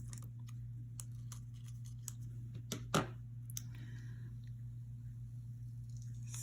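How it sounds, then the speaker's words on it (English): Scissors snip a UV resin keychain part, making a few faint, crisp cuts, the strongest near the middle, over a low steady electrical hum in a quiet room. "Let me get my scissors."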